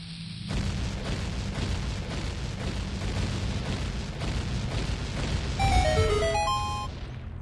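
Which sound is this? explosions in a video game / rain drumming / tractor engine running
explosions in a video game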